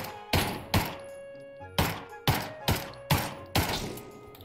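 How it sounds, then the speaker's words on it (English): Pistol shots ring out in a video game set on Outset Island, seven loud, sharp reports fired one after another with short gaps and a brief echo after each. "Damn, pistols on Outset Island?"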